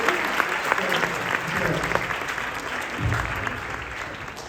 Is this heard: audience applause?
yes